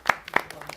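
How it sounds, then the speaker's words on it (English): A small scattered round of applause, just a handful of separate, fairly close claps spaced unevenly over a moment. "round of applause"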